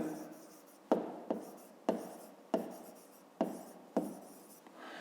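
A pen writes numbers by hand on paper, making a series of about seven close, quiet scratching strokes, each with a sharp onset that fades away.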